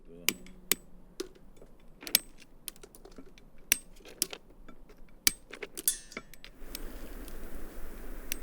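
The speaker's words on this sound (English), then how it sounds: "I've got to be precise and very careful with this hammer" A hammer cracks walnuts with sharp, irregular knocks and snaps, quiet and close, followed by soft shell rattling and rustling.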